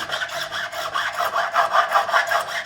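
Profiling file rasping across a fret on a 2008 Gibson Les Paul Custom guitar, rhythmic back-and-forth strokes, close and bright, about six to eight passes with no voices.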